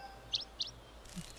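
Two quick, faint bird chirps in close succession from the Zelda: Skyward Sword video game, high and thin against a quiet background.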